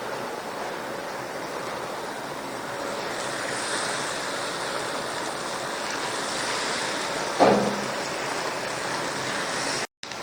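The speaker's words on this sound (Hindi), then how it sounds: "ऑयल बहुत गर्म हो गया है, अब हम जो है इनको फ्राई करेंगे" Banana pieces fry in very hot oil with a steady, dense sizzling hiss that holds evenly close up, with one brief louder crackle and a short dropout near the end.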